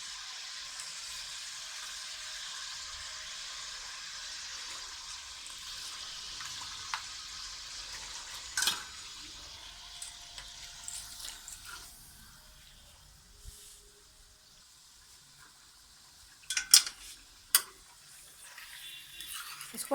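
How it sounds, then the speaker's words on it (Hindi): Mutton pieces fry in a hot pan for Delhi-style nihari, giving a steady, close sizzle for about ten seconds that then settles into quieter crackling, with a few sharp clinks near the end. "अब हम इसमें गोश्त डालेंगे।"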